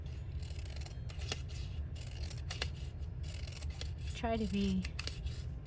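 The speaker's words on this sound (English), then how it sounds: "I'm going to go ahead and just take my scissors, and I'm going to cut up." Scissors cut up scraps of paper and fabric for tassels, making repeated close snipping and rasping strokes over a low steady hum, with a voice talking briefly partway through.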